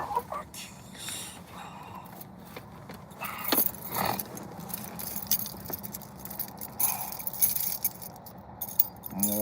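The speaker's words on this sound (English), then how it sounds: "Where are my keys?" A bunch of keys jangles and clinks in several bursts, close by, with faint background noise and a little talk.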